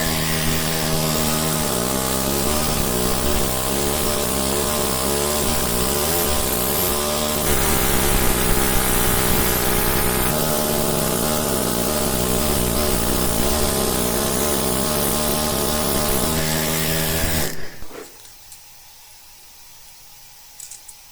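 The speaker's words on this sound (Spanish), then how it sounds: "El trabajo lo hace el martillo neumático," A pneumatic hammer and chisel carve a moulding into stone, giving a loud, continuous rattling buzz of rapid blows for about seventeen seconds before it cuts off and near silence follows.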